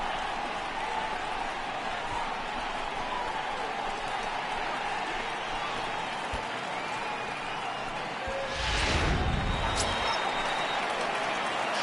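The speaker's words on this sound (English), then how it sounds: "the home crowd is absolutely eating this up" Home crowd at a San Francisco Giants baseball game against the San Diego Padres, a steady stadium murmur that swells into a brief loud cheer and applause after a triple.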